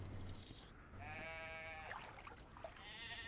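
A sheep in the video game DayZ bleats in long wavering calls, fairly close and clear over a quiet outdoor game ambience.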